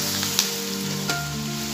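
Onion and ginger-garlic paste frying in hot oil for a Pangasius fish curry, a steady close sizzle with a couple of faint stirring clicks.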